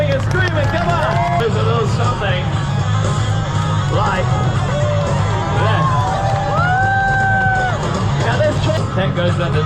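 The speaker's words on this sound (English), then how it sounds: "That's one of those spontaneous rounds of applause I was just telling you about." Crowd at an Edinburgh Fringe street show cheering, whooping and shouting in a dense, loud babble that runs throughout, with excited voices rising above the noise.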